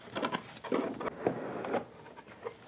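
Cardboard box for an Andis eMERGE detachable hair clipper being opened up close, with soft rustles, taps and scraping bursts in quick, irregular succession.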